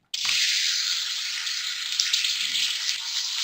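Chopped onions hit hot oil in a pressure cooker and break into a loud, steady sizzle that carries on without a break, with a few faint clinks underneath.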